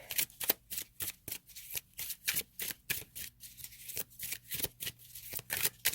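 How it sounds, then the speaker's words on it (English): Tarot cards riffled and shuffled by hand in a quick, steady run of crisp papery bursts, close and clear with no talking over them. "I'm going to pull one more card just to clarify."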